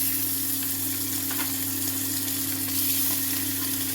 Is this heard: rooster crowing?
no